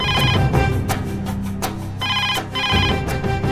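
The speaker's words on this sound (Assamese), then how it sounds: "বাজিল সেইটো তেওঁৰে ফোন ধৰ" A phone rings with a repeating electronic ringtone melody, loud and close, playing on without any voices.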